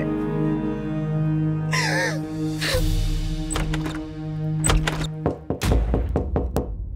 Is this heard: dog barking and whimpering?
no